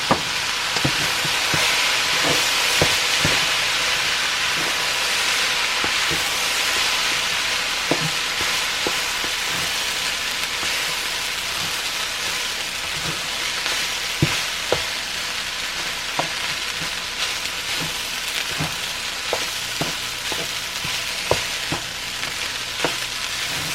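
Rice fries in a hot pan for shrimp fried rice, a steady bright sizzle punctuated by scattered clicks and scrapes of stirring, with no talking.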